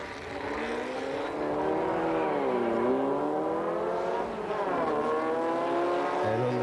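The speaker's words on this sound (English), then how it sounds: "Cars rolling into stage." Drag racing cars at the 1990 Bug Jam roar loudly near the start line, engines held at high revs with wavering pitch that dips and then climbs again as the cars prepare to launch.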